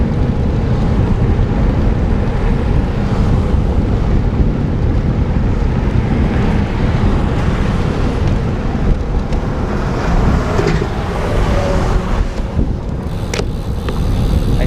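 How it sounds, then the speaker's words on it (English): Loud, steady wind buffets the microphone while cycling into a headwind, a continuous rushing roar with no pauses. "Woo, it is windy."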